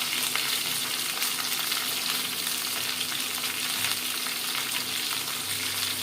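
Potatoes and yardlong beans fry in a pan of oil for an onion-free, garlic-free vegetarian Indian thali, a steady close sizzle that runs unbroken throughout with no talk.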